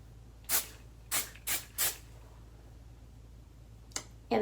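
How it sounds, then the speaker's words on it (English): Aussie Instant Freeze hairspray misted onto hair in four short hissing bursts close by, then a pause and two more brief sprays near the end. "now it's time to set everything in place with hairspray using my standard Aussie Instant Freeze hairspray"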